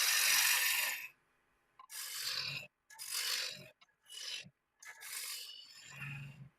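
A woodworking tool turning at about 1400 RPM shapes an ogee profile, heard as loud bursts of rasping, scraping cuts separated by short pauses, with a lower rumble near the end.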